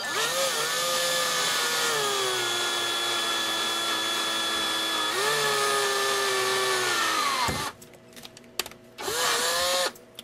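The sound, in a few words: drill boring into metal with gun oil on the bit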